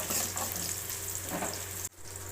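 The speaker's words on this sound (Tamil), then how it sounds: "வெங்காயம் வதங்கிடுச்சு." Onions and two dried red chillies sautéing in a pan for a bitter gourd gravy, a steady close sizzle with a few soft stirring scrapes that cuts off abruptly near the end.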